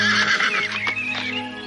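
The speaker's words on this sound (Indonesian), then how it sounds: "Kelihatannya kuda ini bisa kupakai." A horse gives one loud, close whinny that rises and wavers through most of the moment, standing alone without any talk.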